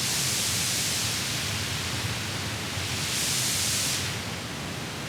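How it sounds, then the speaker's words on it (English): Internal noise from a no-input mixing board with its highs boosted gives a dense, continuous hiss, bright and airy, steady and loud with a slight swell in the upper range partway through. "Hear the highs."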